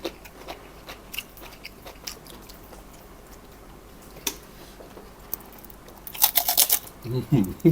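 Freshly fried crispy food crunches in bites alongside som tam with blanched shrimp, the crunches bursting close and loud near the end after a stretch of quieter handling sounds.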